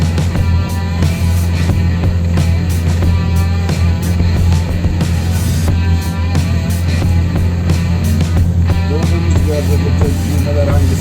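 A Marin Boat Samba Long 6.20 motorboat's engine runs steadily at moderate revs, a loud constant low drone with water and wind noise throughout.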